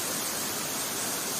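Roadside waterfall on the mountain road via Kalimath, a steady broadband rush of falling water heard alone and continuous at a moderate level.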